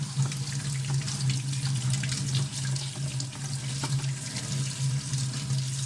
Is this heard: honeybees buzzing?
no